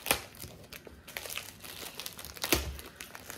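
A well-taped package is torn open by hand, with bursts of crinkling and ripping paper and tape that come in irregular close-up spurts, the loudest near the start and midway.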